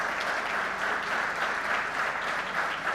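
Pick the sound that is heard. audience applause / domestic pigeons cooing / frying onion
audience applause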